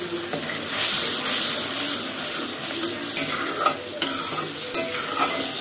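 Fried onion (beresta) stirred into spiced masala sizzling in a pan, with a steady loud frying hiss and scraping stir strokes throughout, no voices.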